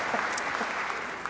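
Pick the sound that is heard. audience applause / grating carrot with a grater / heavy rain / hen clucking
audience applause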